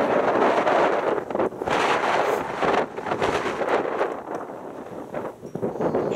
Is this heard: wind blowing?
yes